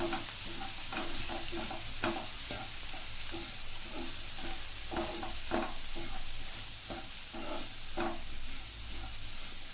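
Soya chunks fry in a pan with a constant soft sizzle, overlaid by regular scraping and clinking strokes from a spoon being stirred through, close and moderately quiet.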